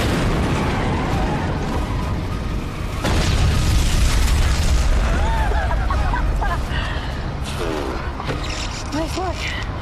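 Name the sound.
rocket launcher explosion in an action film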